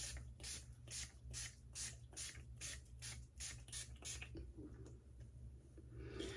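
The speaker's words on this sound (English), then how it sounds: "Spray it with alcohol." A spray bottle of alcohol is pumped toward a face in a quick, even run of about ten soft hissing bursts, faint and close, and then goes quiet.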